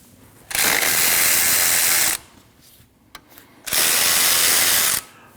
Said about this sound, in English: If you notice when I'm loosening this bolt, the alternator is going to want to drop down.